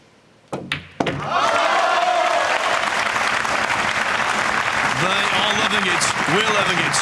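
Crowd at the 2019 World Pool Masters semi-final cheering and applauding loudly after the 9 ball is potted, a sustained roar following a couple of sharp thuds, with voices mixed in.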